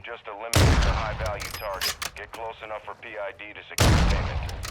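Rifle gunfire in Call of Duty Modern Warfare II DMZ, two heavy booming shots bursting out over excited talking, close and loud with a rumbling tail.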